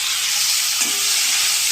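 Ginger paste and chopped tomato fry in spiced oil with hing, giving a steady, close hiss of sizzling, with a faint stir or scrape near the middle and no talking.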